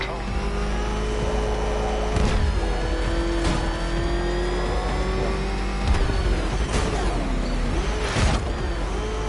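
A car engine in the video game Batman: Arkham Knight revs and roars at a loud, sustained level, with several sharp surges of acceleration and brief squeals over the constant engine tone.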